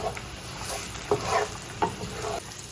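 Garlic and onions cooking over medium heat in a pan: a faint steady sizzle with a few soft stirring scrapes, quiet and close, with no talking.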